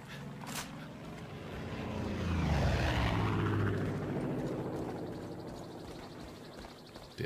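A Spitfire propeller plane in the video game Far Cry 5 drones in, swells to a loud pass with a falling pitch, then fades away, with no talking.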